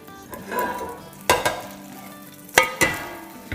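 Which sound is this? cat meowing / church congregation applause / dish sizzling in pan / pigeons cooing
dish sizzling in pan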